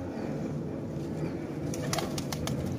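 Kasoori pigeons coo steadily in a low, continuous hum with no talk, joined near the end by a few brief sharp flutters or clicks close at hand.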